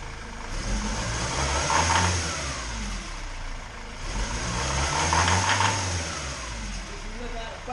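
Ford Transit 2.2 diesel from 2006 with a faulty EGR valve, revved twice from idle, each rise and fall of engine roar close and loud.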